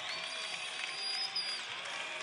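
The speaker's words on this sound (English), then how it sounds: "Crowd just going wild for Jamario Jones" A basketball arena crowd roars in a college game between New Mexico State and Seattle, a steady, distant wash of cheering and applause that is fairly faint and sustained throughout.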